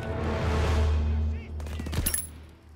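Gunfire in the Call of Duty WWII campaign, a close burst of rapid shots followed by sharp reports, with low rumbling game sounds underneath.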